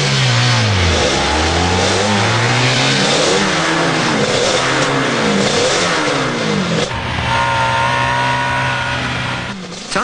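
A car pulls away from a race track start, its engine revving hard through rising and falling gear sweeps, loud and close at first, then fading as it continues accelerating into the distance.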